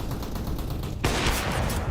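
Pistol fire in a Counter-Strike match on Mirage, a burst of close, sharp shots cracking over steady game ambience.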